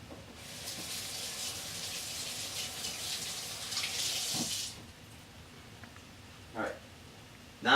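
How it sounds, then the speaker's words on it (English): Running tap water splashes over hands at a kitchen sink, a steady hiss for several seconds that drops away as the flow is turned off, followed by a few faint knocks. "now that our hands are washed"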